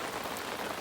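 Rain falls steadily on a fishing bivvy at a carp lake, a dense, even patter of drops close by with no pauses and no voices.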